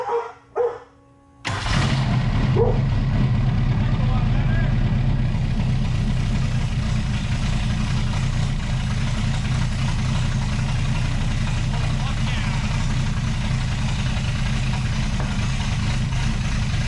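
A Ministock Mustang race car engine with headers idles loudly with a rough, throaty rumble after a few brief bursts at the start, holding a steady drone throughout.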